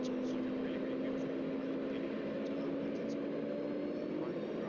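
Concorde engines spooling up in the X-Plane 11 flight simulator, a steady droning hum with a sustained whine, fairly quiet and continuous, with speech faintly present.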